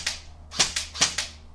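G&G CM16 airsoft rifle firing, a few sharp close clicks and snaps spaced unevenly, crisp and dry, with no voices.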